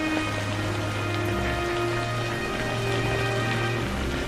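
Steady rain falling outdoors near a tree by a poor farmer's home, an even continuous patter with sustained tonal hums layered underneath, no voices.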